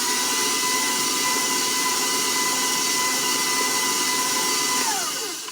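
An electric hand mixer beating dried cranberry muffin batter whirs steadily and loudly for about five seconds, its tone dropping slightly as it winds down at the end, with no voices.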